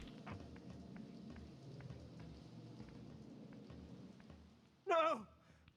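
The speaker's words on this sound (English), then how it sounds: "I guess rain is okay." Soft, steady rain patters throughout a scene in the video game Legacy of Kain: Soul Reaver, a low hiss under faint drops, briefly interrupted near the end by a short loud vocal sound.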